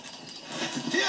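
Horse hooves galloping in the Western video game Red Dead Redemption, a brief rapid clip-clop close by, with a voice speaking over it.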